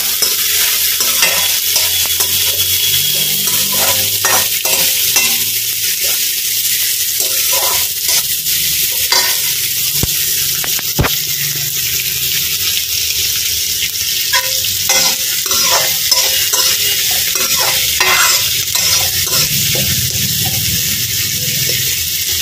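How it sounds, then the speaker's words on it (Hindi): Onions being stirred in a pan over a very low gas flame, browning gently: steady soft sizzle with repeated scraping and clinking of the spoon against the pan, close and continuous, no talking. "अब इसको अच्छे से चलाएंगे, गैस का फ्लेम मैंने एकदम धीमे रखा है।"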